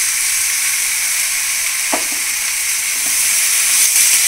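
Ground masala paste fries with bitter gourd in a pan, giving a loud, continuous hissing sizzle, with a few faint stirring knocks along the way.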